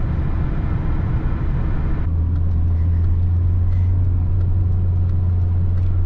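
Citroen XM 2.1 turbo diesel cruising in fifth gear at about 100 km/h and just over 2000 rpm, a steady low engine drone with road and wind noise from inside the car.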